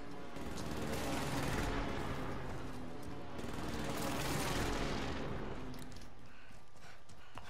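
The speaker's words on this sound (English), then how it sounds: "Precision airstrike missed." Precision airstrike explosions in the Warzone video game roll through as rumbling, crackling blasts. They swell in two heavy waves and then fade into a lighter, scattered rattle.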